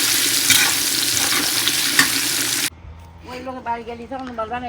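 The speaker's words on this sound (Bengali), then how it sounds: "টোফুগুলো একটু ভাজা করে নিচ্ছি" Tofu fries in a pan with a loud, dense, steady sizzle for about two and a half seconds. It then cuts off abruptly and a voice speaks over a faint background hum.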